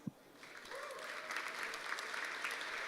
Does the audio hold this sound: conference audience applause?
yes